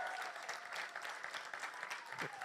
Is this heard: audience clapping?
yes